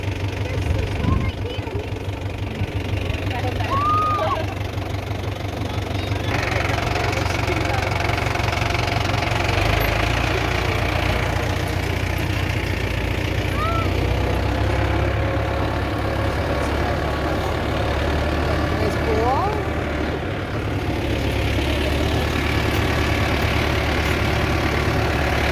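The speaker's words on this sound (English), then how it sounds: "Look at those old tractors." An old tractor engine at an apple orchard rumbles steadily with a low knocking idle throughout, while people talk over it now and then.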